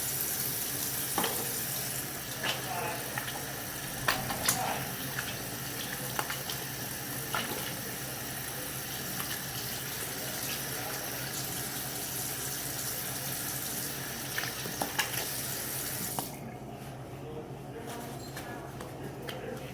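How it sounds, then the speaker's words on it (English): Steady running tap water during medical hand washing before giving medication, a close, continuous hiss and splash with small clicks and rubbing, stopping abruptly near the end to leave a quieter room tone. "I will practice medical hand washing before I distribute the medication."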